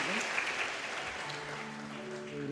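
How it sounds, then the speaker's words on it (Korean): Congregation applause during an afternoon service at a Presbyterian church, a quiet, fairly distant patter of clapping from a gathered crowd, with a faint voice briefly beneath it. "뜨거운 박수 보내주십시오"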